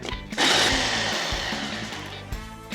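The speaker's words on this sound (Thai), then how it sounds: "ใช้เครื่องปั่นได้เลยจากนั้นครับใส่พริกแห้งลงไป ตามด้วยกระเทียมครับ แล้วก็หอมแดงแล้วก็ปั่นให้เข้ากัน" A kitchen blender whirs loudly and steadily, grinding dried chilies, garlic, shallots and fermented soybean sheets into a nam ngiao curry paste. A short burst comes first, then a sustained run, heard close with no talking.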